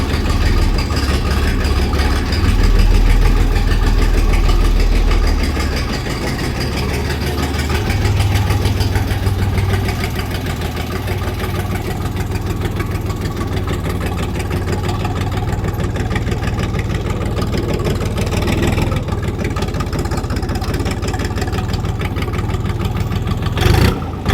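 VAZ 2107 car engine idling after a cold start close by in a steady, rough low drone, the pitch dipping slightly after the first few seconds, continuous throughout.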